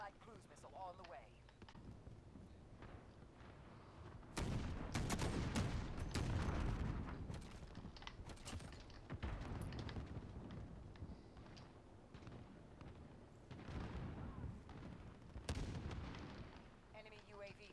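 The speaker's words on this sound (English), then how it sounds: "Allied cruise missile on the way." Call of Duty-style match with explosive blasts and bursts of gunfire from an allied cruise missile strike, loud impacts around five and fifteen seconds over continuous battle noise, with game voice callouts heard.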